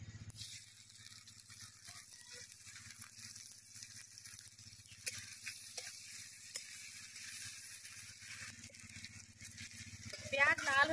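Chopped onions fry in oil in a wok with a steady, low sizzle that runs throughout, while a person talks over it.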